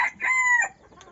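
Young bulik gamecock gives a single short, hoarse crow, close and clear, followed by quiet background.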